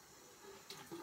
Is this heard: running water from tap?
yes